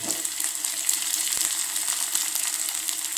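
Chopped onion and ginger fry in a pan, giving a steady, even sizzling hiss that carries on without a break and with no voices over it.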